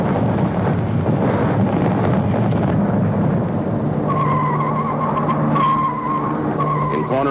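A Mercedes-Benz car corners hard on a test track, its tyres skidding and squealing in long, pitched screeches over steady road and wind rush.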